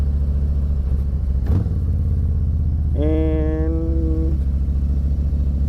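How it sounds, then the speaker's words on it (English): Low, steady engine rumble of a 2024 Harley-Davidson Softail Standard motorcycle held at slow speed through a U-turn, with a brief knock and a tonal whine rising mid-clip; a single spoken word briefly overlaps. "I am just going to go down here to the right and test out this bike's U-turn ability again."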